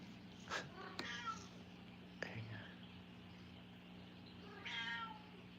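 A pet cat meows a few times at close range over a steady low hum, with short separate cries spread across the moment and quiet stretches between them.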